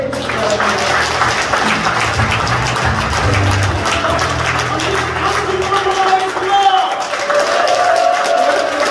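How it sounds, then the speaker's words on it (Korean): A crowd applauds at a gubernatorial campaign office opening in Gumi, producing a sustained wash of clapping with some cheering and a low murmur of voices beneath it. "이분들 큰 박수로 격려해 주시기 바랍니다"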